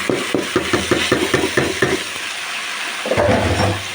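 Rice frying in hot butter ghee, stirred with a spoon in quick rhythmic scrapes for about two seconds. A steady sizzle carries on beneath, and a fresh burst of frying rises near the end.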